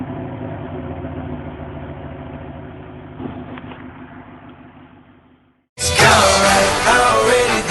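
A stock exhaust on a Pontiac Grand Prix GXP with a 5.3-liter LS4 V8 idles with a steady low rumble, then cuts out abruptly before a louder, fuller burst of sound.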